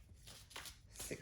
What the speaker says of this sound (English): The Ace of Cups is just flipping out whilst I shuffle this deck.